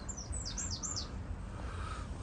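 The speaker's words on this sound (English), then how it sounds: "A lot more birds, bird life in abundance" Birds calling in autumn woodland where robins and great tits feed on berries, a few short chirps and a cawing call above a soft steady background of rain.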